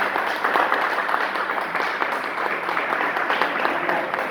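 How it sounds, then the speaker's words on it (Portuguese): A church congregation applauds during a sermon, steady mid-level clapping from many hands filling the space with no pauses. "Você pode aplaudir o Senhor?"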